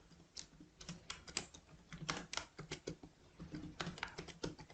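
Someone types a name on a computer keyboard, with quick, irregular clicks of keys close by, alone, with a short pause in the middle.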